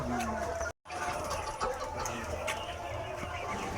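Chickens on a poultry farm cluck intermittently at moderate distance, short scattered calls over a steady background hum, with a brief dropout early on and occasional faint voices.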